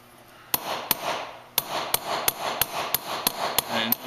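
Light hammer taps on wire being set for a wire-twist mokume gane piece, about a dozen sharp, evenly spaced strikes close by, each ringing briefly over faint background noise.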